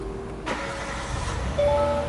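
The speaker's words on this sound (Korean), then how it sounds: "엔진 소리가 이게 그 가스 모델이 돼서 확연히 조용하네요" An LPG-fuelled Hyundai Grandeur IG engine cranks briefly and catches, settling into a quiet, low idle with a faint steady hum.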